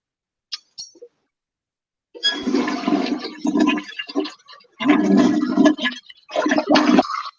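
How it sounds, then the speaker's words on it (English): A toilet flushes loudly and close by, a rushing gush of water in several surging bursts after a couple of brief clicks, with no talking over it. "we got the caller flushing the toilet"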